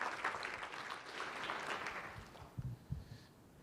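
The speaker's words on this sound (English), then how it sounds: "a big round of applause" Conference audience applause at a Churchill Club tech event, a soft, distant wash of many hands clapping that thins out toward the end, with a few louder thumps near the close.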